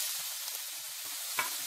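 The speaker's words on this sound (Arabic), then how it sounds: "هبدأ أحط معلقة سمنة، بعد كده هنزل بالبصل، هديها تشويحة سريعة" Onion stir-fries in ghee with a soft, even hiss, broken once by a short clink or stir toward the end.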